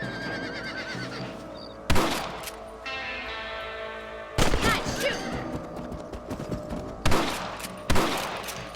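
Sharp gunshots in the video game Red Dead Redemption during a rabbit hunt on a ranch, four loud cracks spaced a couple of seconds apart over a quieter bed of ambient sound with a horse briefly whinnying.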